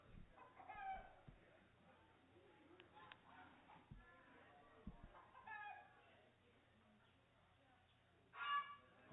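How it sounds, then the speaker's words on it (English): Young roosters cluck and honk faintly in a crate at a livestock auction, with a brief louder squawk near the end over background murmur. "10 young roosters."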